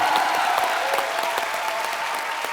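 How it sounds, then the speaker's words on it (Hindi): A studio audience claps loudly and steadily on a TV comedy talk show, dense continuous applause with a faint tonal hum underneath. "सो एक बार सीआईडी की पूरी टीम के लिए जोरदार तालियां हो जाएं"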